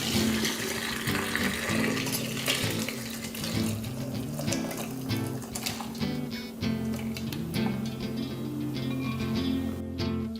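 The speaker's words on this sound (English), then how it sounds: "we're going to go ahead and pour it over our eggs." Boiling pickling brine poured from a pot over eggs in a jar, a steady pouring and splashing of liquid heard alone over a low musical bed.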